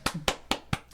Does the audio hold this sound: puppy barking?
no